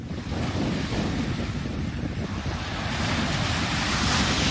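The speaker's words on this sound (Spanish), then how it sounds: "No, este es del mar." Steady roar of sea surf washing in continuously, broadband and full, with wind noise blowing across the microphone throughout.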